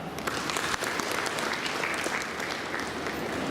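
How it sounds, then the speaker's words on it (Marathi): Audience at a Beti Bachao event in Devlali Pravara breaks into dense, sustained applause, many hands clapping loudly and evenly throughout with no pause. "टाळ्या वाजवा."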